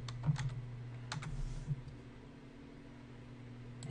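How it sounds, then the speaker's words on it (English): A computer keyboard is typed on in a few quick bursts of faint key clicks over a steady low hum, with quiet gaps between. "I'm just going to type in T-ball"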